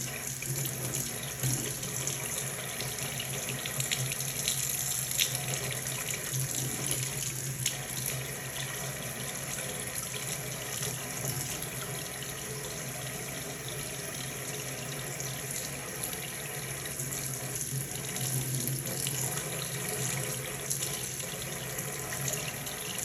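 Tap water runs steadily to rinse the internal parts of a Grundig FiberCatcher, a continuous close rushing flow with light splashing that holds the same level throughout, with no talk.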